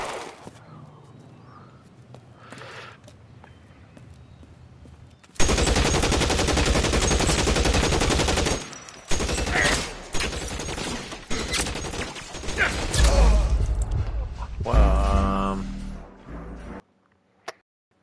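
Video game gunfire in L.A. Noire erupts as loud, dense bursts of rapid shots and a sustained fusillade, with a quieter stretch before it and a few scattered shots afterward.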